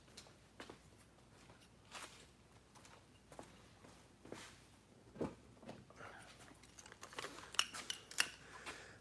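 A tape measure is handled near a measuring cup: scattered soft clicks and rustles, faint and irregular, becoming a cluster of sharper metallic ticks and snaps toward the end. No one speaks.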